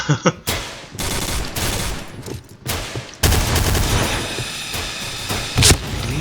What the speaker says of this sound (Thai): เรียบร้อยปืนผมแรงครับผมยิงแฮกได้